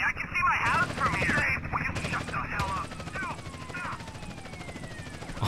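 A police helicopter in GTA San Andreas drones steadily with a pulsing rotor beat and whining turbine tones throughout, someone speaking over it.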